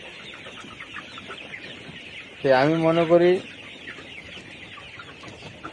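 A single hen clucks loudly for about a second, with a faint, steady chirping ambience in the background.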